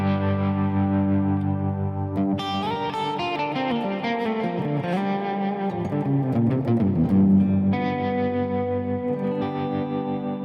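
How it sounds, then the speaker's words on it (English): An electric guitar plays a clean tone through a Kemper Player with tremolo switched on, a pulsing, effected melody with sustained, shimmering chords and no voices. "I can turn on switch 2, and that's going to bring in my tremolo."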